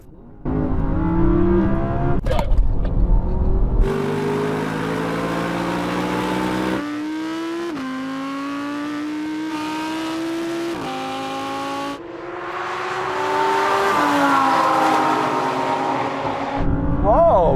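Several Audi R8 generations drag racing, with engines roaring loudly through gear changes, revs climbing and dropping in stepped shifts, plus a sharp burst near the start and voices talking over parts of the run.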